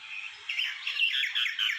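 Pet mynah bird chirping in a steady run of bright, warbling calls close by, with no talk.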